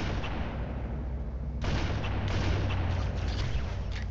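Plasma grenades going off in Halo: Combat Evolved, a dense, roaring wash of blast noise that suddenly surges louder partway through and stays heavy, with no voices.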